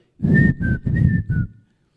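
A preacher whistles a cheerful tune imitating a happy shepherd walking home, four short close, loud whistled phrases in quick succession, each with a slight downward slide.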